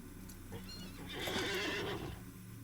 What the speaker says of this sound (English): So, if we just get on a normal horse.